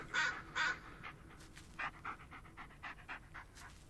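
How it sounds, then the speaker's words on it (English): A dog pants in quick rhythmic breaths inside the Blair Witch video game, with two louder bursts at the start and softer panting continuing alone throughout. "Okay, so Bullet is definitely a service dog, for sure."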